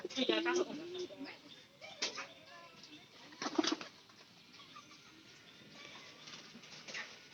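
A pigeon coos softly and flutters its wings in short bursts, close by, while someone talks over it outdoors.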